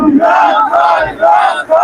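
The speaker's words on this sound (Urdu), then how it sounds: "میرے ساتھ نعرہ لگاؤ" A large crowd at a Pakistani political rally in Washington DC chants a slogan in unison, loud and rhythmic, in repeated shouted phrases with short breaks between them.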